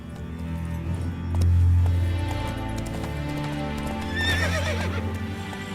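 Roach, a horse in The Witcher 3: Wild Hunt, clip-clops at a run over a steady game soundscape, with a loud whinny early on and a second neigh near the end.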